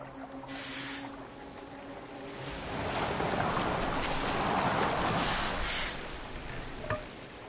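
Boat gliding across water in the video game Assassin's Creed Valhalla, a steady wash of water and hull noise that swells in the middle and eases off, with a faint tonal game score underneath and no talk.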